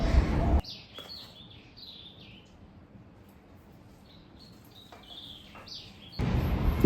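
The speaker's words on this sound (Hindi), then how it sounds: "तो दिन भर भाई चिड़ियों का आना जाना लगा रहता है, काफ़ी सारे तोते बैठे हुए हैं।" Parrots and other small birds at a feeder on a hot, windy day give a series of short high chirps and tweets, moderately distant, between loud bursts of wind buffeting at the start and end.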